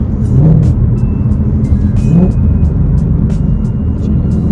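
A car engine drones loudly and steadily in a third-gear pull, rising in pitch as it revs under acceleration, with faint ticking and whine above the rumble.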